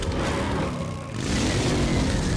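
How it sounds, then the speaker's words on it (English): A vehicle engine revs in the Fortnite video game, a continuous mid-pitched whirring drone that dips briefly and then picks back up and holds strong, heard alone without talk. "The engine picks back up a little bit when you move forward."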